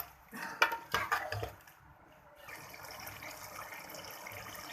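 Yoghurt and tomatoes get stirred in a cooking pot for masala kaleji, with a spoon knocking and scraping against the pot in a short cluster of clinks. A softer wet, steady cooking hiss follows.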